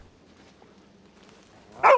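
A dog in the video game Red Dead Redemption 2 gives a single loud, close bark at the end after a quiet stretch of faint background ambience.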